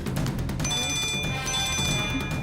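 A telephone rings in a Tamil TV serial scene, a bright electronic trill sounding alone at steady volume for the whole short stretch.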